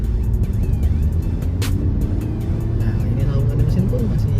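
Inside a Hyundai Stargazer Cartensz accelerating on a highway, a loud, steady engine and road drone fills the cabin while a person talks over it.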